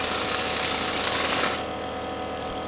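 A loud air compressor runs with a dense, steady mechanical drone that suddenly drops to a lower, quieter hum partway through.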